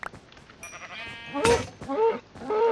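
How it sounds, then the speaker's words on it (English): Sheep in the Minecraft video game bleat three times in quick succession, wavering cries rising over a soft background tone, fairly close and clear. "Why the heck am I killing sheep?"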